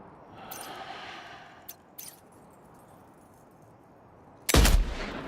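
Tranquilizer rifle shot in the video game Death Stranding 2: a single sharp, loud gunshot bursts near the end after quiet ambience and a couple of faint clicks, then decays briefly.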